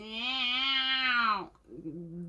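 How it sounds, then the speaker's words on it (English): Next door's cat lets out a long, loud, drawn-out meow close by, then a shorter, quieter wavering mew follows. "And next door's cat."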